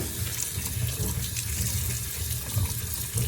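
Potatoes are washed under a running kitchen tap, giving a steady, fairly soft stream of splashing water that continues without a break.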